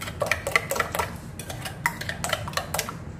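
A utensil clinks and scrapes against a bowl while seasoning for a grilled eggplant dish is mixed, giving a run of sharp, irregular taps close by with no talking.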